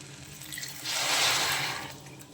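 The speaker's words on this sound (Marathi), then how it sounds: "बघा आता हे पाणी गरम झालेलं ह्याच्यात टाकायचं" A steady gush of hot water pours into a pot of pulao for about a second, swelling then fading, with no voices.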